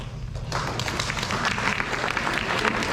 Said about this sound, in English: then we can give them a round of applause